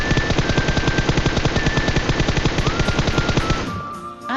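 Automatic gunfire in the video game PUBG Mobile, a loud, rapid, evenly spaced burst of shots that runs for about three and a half seconds before stopping abruptly, with no speech.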